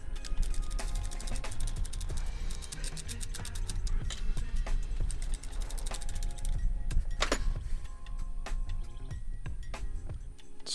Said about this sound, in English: take your 5/8 socket and your ratchet or wrench, break them loose and remove the old plugs.